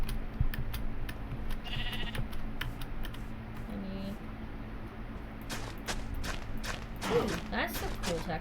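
Blocky sheep in Minecraft bleat a few times amid steady computer keyboard typing and clicking, with a player talking over the game sounds.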